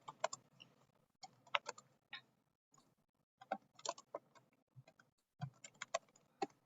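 Bursts of quick, light key clicks from typing on a Mac keyboard, close and fairly quiet, with short pauses between runs of keystrokes.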